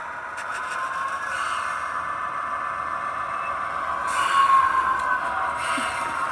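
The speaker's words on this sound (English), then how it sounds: "now I'm going to reverse the locomotive and we're going to back up a bit." Model locomotive run in reverse under Blunami app control, a steady mechanical rumble and whir with a faint squealing tone that swells slightly toward the end, close and continuous with no talk.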